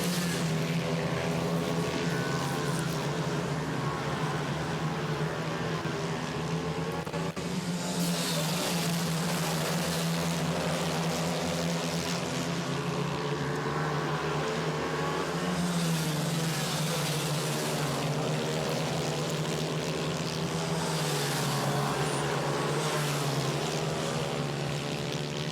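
MiniGP 160 racing motorcycles on a track at Anneville, a sustained high-pitched engine whine with rising and falling tones as bikes pass, steady and fairly loud throughout.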